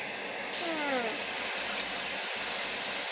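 An aerosol can sprays in one long, steady hiss that starts abruptly and continues loud and close, with a short tone sounding just before.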